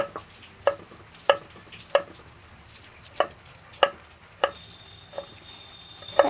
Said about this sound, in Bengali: আজকে রসুন ডাইরেক্ট কুচিয়ে নিচ্ছি ছোট ছোট করে কেটে নিচ্ছি